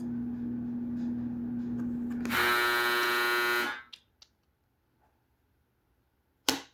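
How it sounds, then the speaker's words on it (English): A clothes dryer's end-of-cycle buzzer sounds once as a loud, steady harmonic drone for about a second and a half, cutting over a low household hum, then stops abruptly, leaving a quiet room with a few faint knocks. "Confirmation with the dryer going off."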